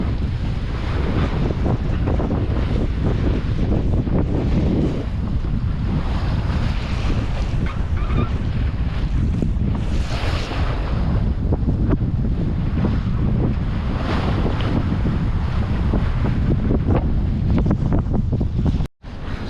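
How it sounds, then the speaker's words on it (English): Ocean swells washing and wind buffeting the microphone aboard a sailboat offshore, a steady loud rush of surf and gusts throughout with no voices, ending in a brief dropout. "Swells are rolling in nice and gently with good intervals,"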